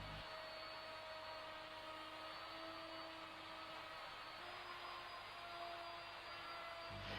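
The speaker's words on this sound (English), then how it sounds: "The cut is then made, holding the router firmly against the jig at all times." A router guided along a jig clamped with G-cramps cuts a laminated worktop, giving a loud, steady motor whine that holds unbroken for several seconds with no voices.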